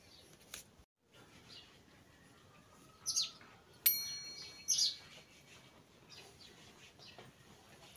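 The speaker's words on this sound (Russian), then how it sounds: "прикольные птички" A few short bird chirps ring out in bursts over a faint, steady outdoor hiss, with quiet gaps between the calls.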